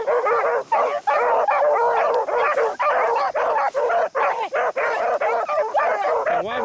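A pack of beagles bays continuously, loud and near, their overlapping howling yelps forming a dense chorus as they run a rabbit at a Northern West Virginia beagle club, with brief gaps between bursts.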